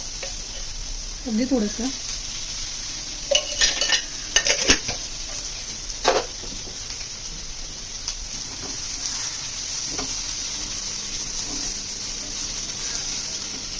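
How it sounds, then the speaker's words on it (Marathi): Onion fries in a little oil in a pan, a steady bright sizzle running throughout, with several close clanks and scrapes of a spoon stirring against the metal and a few brief words from a woman. "कांदा पण छान लाल होऊन द्यायचा आहे. त्याच्यामध्ये मी थोडंसं तेल टाकते."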